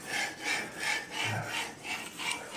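A knife blade is stroked across a finer-grit sharpening stone, giving a quiet, rhythmic rasping with about six even back-and-forth scrapes, close up and heard alone.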